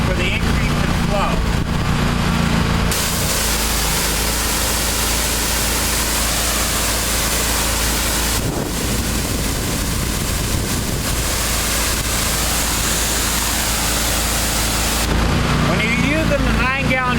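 A 31HP hot water pressure washer spraying at 9 gallons per minute and 3500 PSI gives a loud, continuous broadband hiss over a steady engine drone, with brief tonal whines near the start and end.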